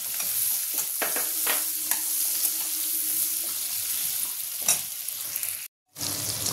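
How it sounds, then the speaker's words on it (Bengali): Onions frying in a pan for a Bengali-style butter paneer dish, a continuous close sizzle with scattered stirring clatters, then a sudden brief dropout near the end before the frying sound returns. "পেঁয়াজটা আমি লাল করে ভেজে নেব।"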